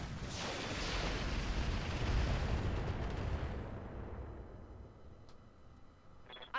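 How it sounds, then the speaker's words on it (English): Heavy weapons fire in the mech combat game Roguetech, a sustained roaring barrage of booming explosions that swells for several seconds and then fades to a quieter hiss, with a few small clicks at the end. "I'm under heavy fire."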